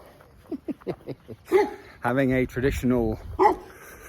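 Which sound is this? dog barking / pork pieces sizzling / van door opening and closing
dog barking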